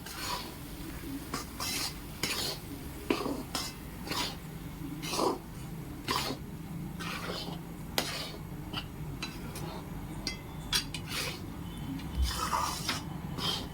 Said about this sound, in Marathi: तूप तापल्यावरती त्यामध्ये मी पीठ घातले आता मंद आचेवरती छान असं परतून घेऊ